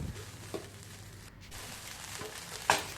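Chicken rice is stir-fried and mixed in a pan, giving a faint, continuous sizzle with a few light scraping knocks from stirring.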